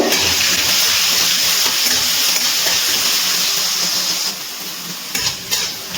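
Potato pieces fry loudly in hot oil with salt and turmeric, a dense, continuous close-up sizzle that holds steady before easing slightly, with a couple of short stirring scrapes near the end.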